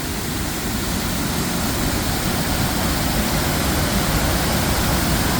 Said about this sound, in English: So this is the main fall, fairly decent drop.